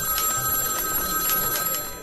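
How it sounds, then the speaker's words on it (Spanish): A telephone bell ringing over and over in a chaotic newsroom, steady repeated metallic rings with a murmur of background noise. "ese maldito teléfono sonaba y sonaba"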